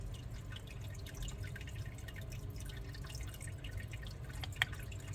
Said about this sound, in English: You can hear the water now because obviously as the pump's increasing